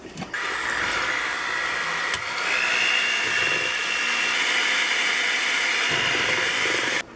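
A handheld electric mixer whirs steadily while beating eggs in a bowl for German pancake batter, a loud continuous motor hum that starts abruptly and stops near the end.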